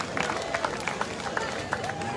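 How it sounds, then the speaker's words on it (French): A crowd at the Le Robert patronal festival cheers and makes noise: a dense, steady hubbub of many voices with scattered claps and shouts popping out, loud and close throughout. "Le Robert, faites du bruit."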